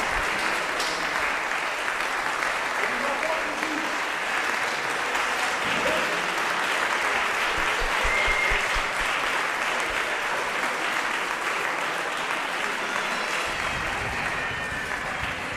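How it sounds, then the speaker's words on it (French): A concert audience at a brass-music event in Wittelsheim applauds a teacher with steady, dense clapping that holds at an even loudness throughout, a broad crowd sound with no voices standing out. "Et je pense qu'on peut applaudir aussi Pascal, le professeur qui les a accompagnés avec toute son énergie."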